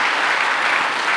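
A church congregation at a couples' retreat worship service applauds warmly, a dense, steady wash of clapping from many hands filling the room.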